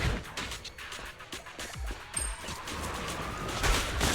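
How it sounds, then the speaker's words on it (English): Explosive boxes blow up in the video game Zenless Zone Zero, a run of sharp popping blasts and crashes over a busy game soundtrack. "Oh god, these are explodey ones."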